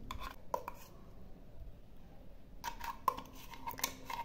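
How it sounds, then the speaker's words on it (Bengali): Raw potato chutney paste is scraped from a container into a bowl with a spoon, making a few faint, scattered clinks and soft scrapes separated by quiet pauses. "এর মধ্যে চাটনিটা ঢেলে নিচ্ছি"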